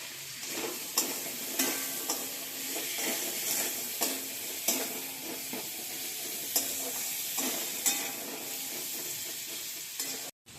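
Chunks of elephant foot yam fry in a pan with a steady, close sizzle, broken by a regular scrape-and-clatter of stirring about once a second, with no talk.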